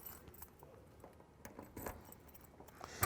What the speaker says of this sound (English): I had 5 keys to choose from and got the first one